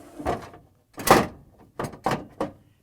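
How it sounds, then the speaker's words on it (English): A plastic ice container slid into the auger assembly of a Frigidaire/Electrolux refrigerator icemaker, giving a series of five close, hollow plastic clunks and knocks over a few seconds, with no talking. "we can install ice container in auger assembly by just sliding it in"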